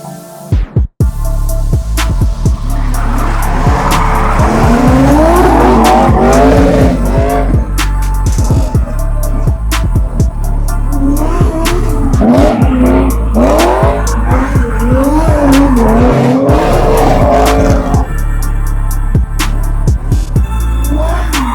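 Drift cars at a Black Auto Battle 2024 event, with loud, continuous tire squeal and engine roar sweeping in repeated wavering bursts across the run, close and dominant with no talk.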